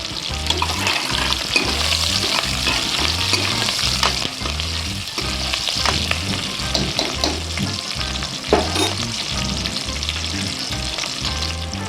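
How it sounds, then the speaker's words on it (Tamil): Onions, green chillies and curry leaves sautéing in a pan, a loud continuous frying hiss with rhythmic scraping stirs throughout, close and without talk. "வெங்காயம் கொஞ்சம் வதங்கிட்டு மிளகாய் கருவேப்பிலையும் சேர்த்துக்கலாம்"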